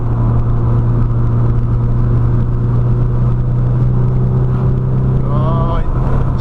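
A Nissan Silvia PS13 with an SR20DET engine hums along at an even, moderate pitch while cruising, close and continuous, with a brief whining rise near the end.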